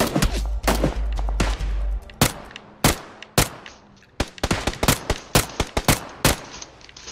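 Gunfire in PUBG, sharp loud shots fired in irregular single cracks and quick clusters across the clip, with a low rumble at the start.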